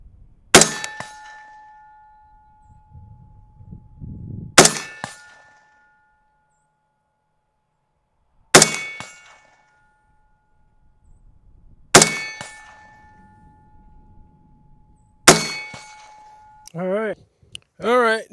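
Five loud unsuppressed BCM rifle shots, spaced several seconds apart, each followed by a ringing metallic clang from a steel target; a voice speaks briefly at the end.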